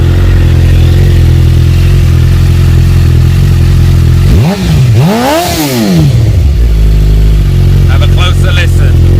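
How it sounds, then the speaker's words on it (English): Suzuki GSX-R750 motorcycle with an aftermarket exhaust idling loudly, then a single sharp rev that climbs and falls before settling back to a deep steady idle, close up. "that beautiful sound is coming from this beautiful exhaust"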